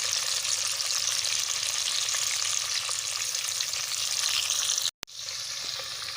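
Onions and crushed garlic sizzle steadily in a pan for a chicken and potato curry, a dense, even frying hiss that holds loud throughout, broken by a brief dropout near the end before resuming.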